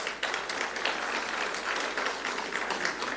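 Audience applause at a forum seminar for vocational institution presidents, dense, sustained clapping from many hands filling the hall, moderately loud and close.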